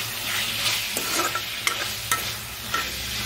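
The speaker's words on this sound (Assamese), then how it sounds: "এতিয়া এইখিনি আৰু ভালদৰে ভাজি লম" Spices with salt, turmeric and chilli powder frying in a pan while being stirred, a steady sizzle broken by several sharp scraping strokes of the spoon, close and alone.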